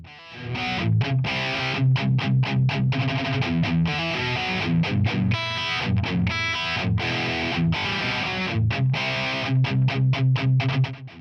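Cranked Marshall JCM900 guitar amp in a studio, pushed into power-tube distortion, plays a loud, continuous run of chugging, rhythmic chords with tight aggressive mids and bright top-end bite.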